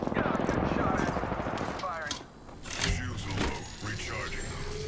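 Rapid gunfire bursts ring out in an Apex Legends match, dense and loud at first, then a brief lull and more scattered shots, with game voices and effects mixed in.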